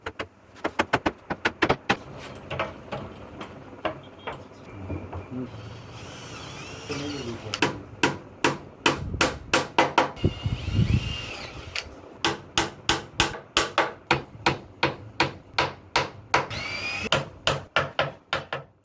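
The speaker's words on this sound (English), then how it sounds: "for extra strength I am driving tapered square dowel" Tapered square wooden dowels are hammered into glued wooden trays in a woodworking shop, with bursts of sharp, close, evenly spaced blows and a short pause partway through.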